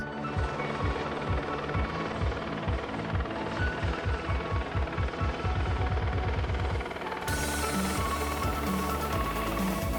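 A helicopter over Lake Kariba in Zimbabwe makes a steady loud engine roar with a deep rhythmic rotor thump, continuous and close throughout.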